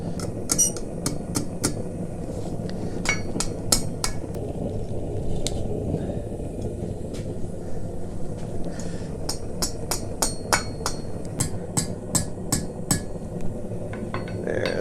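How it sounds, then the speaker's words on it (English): Sharp metallic strikes of a hammer on an anvil, forging a simple Christmas ornament, ring out in irregular bursts, some quick and clustered, over a steady roaring background like a forge blower. "start hammering it back on itself."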